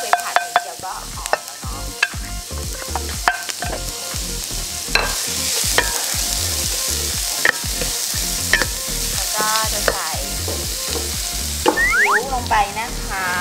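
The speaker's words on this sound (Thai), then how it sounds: "我们要开始炒蒜蓉 了哦" Minced garlic is stir-fried in a hot pan with a loud, continuous sizzle, punctuated by frequent sharp spatula knocks and scrapes and a few squeaky metallic scrapes near the end.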